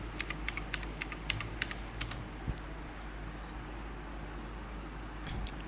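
Typing on a computer keyboard: a quick burst of close, crisp keystrokes over the first couple of seconds, then a pause over a faint steady hiss, and a few light taps near the end.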